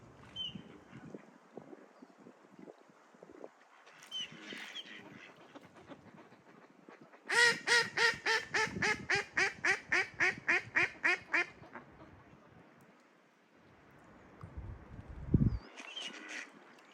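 A rapid series of about a dozen loud, nasal quacks in a burst, with quieter background sounds before and after.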